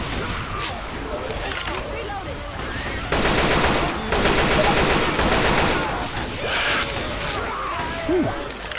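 Rapid gunfire from Left 4 Dead 2: dense bursts of automatic shots and scattered single cracks, loud and continuous with heavier stretches mid-clip, mixed with game noise.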